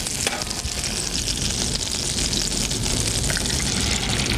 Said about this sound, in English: It's a pretty hot pan that I've got here. Now watch. Crack your egg in the pan.